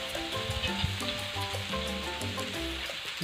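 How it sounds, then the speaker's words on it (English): Zucchini sizzles on a backyard grill, a steady hiss and crackle running throughout, with tonal music-like notes layered over it. "Oh, we put some zucchini."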